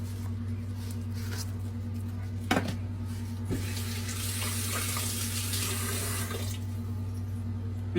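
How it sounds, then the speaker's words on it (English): A kitchen tap runs into a sink while hands are rinsed during chicken and mushroom cooking. The water flow is continuous and steady, with a steady hum underneath, a couple of sharp knocks, and brief splashy swells. "Rinse off my hands."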